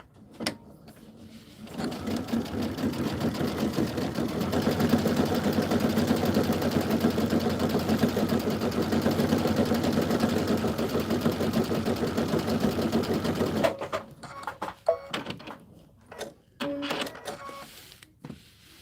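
A foot-controlled sewing machine stitching a quilt panel whirs in one sustained mechanical run of about twelve seconds, then stops, leaving a few scattered clicks and handling noises.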